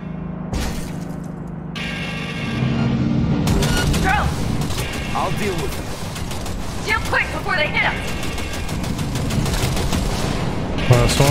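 Sustained gunfire in Cyberpunk 2077, dense rapid bursts and clattering impacts running almost the whole time at high loudness, with voices talking intermittently over the shooting.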